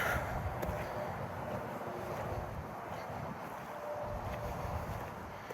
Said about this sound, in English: Pretty good for a windy day. Today's pretty windy.